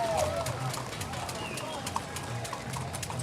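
Horse hooves clip-clop along the route of an evening torchlight parade, a steady trot mixed into crowd noise and bird calls, with a commentator talking over it.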